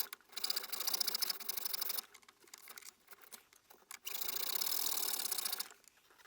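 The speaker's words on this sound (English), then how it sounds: "So let's cut this open with a hacksaw." A hacksaw cuts through a Japanese foil ball clamped in a vise: two stretches of fast, rasping back-and-forth strokes, loud and close, with a brief quieter pause between them.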